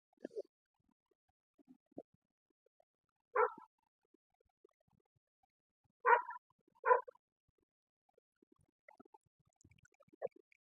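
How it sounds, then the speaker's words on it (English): A dog gives a few short barks and yips in a quiet room, spaced out in separate bursts with silence between them and softer whimpering sounds in the gaps. "I'm just gonna let him bark."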